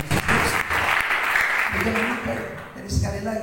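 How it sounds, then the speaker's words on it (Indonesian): A church congregation breaks into applause after a sermon's call to praise, with dense clapping from a crowd that starts loud and fades in a few seconds as voices mix in. "Beri tepuk tangan yang terbaik."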